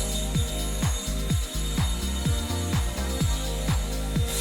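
A ratchet tightens a bolt on a Chevrolet Cobalt SS while dual pass and Option B kits are installed, giving loud, close, rapid clicking strokes in a steady back-and-forth rhythm throughout, with no talking.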